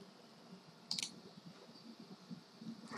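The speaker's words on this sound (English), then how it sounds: "So you click download template." Computer mouse clicks while working in budgeting software, one sharp, crisp click near the start and another at the end, faint and close against a very quiet background.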